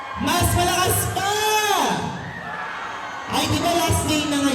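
Students at a school intramurals awarding ceremony scream and whoop loudly as a massed crowd, the roar swelling, dipping for a moment, then bursting back even louder.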